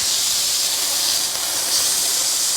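Tri-tip roast meat searing in a hot pan sends up a loud, continuous, close sizzling hiss that holds steady throughout, with no talking.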